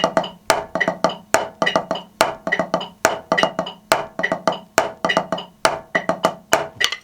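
A steady drum groove at a relaxed 70 bpm, crisp snare and kick hits with ticking cymbals repeating evenly, played alone and close.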